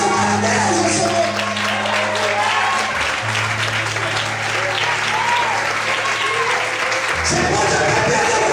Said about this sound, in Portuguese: Quantos podem aplaudir e exaltar a Deus, Senhor?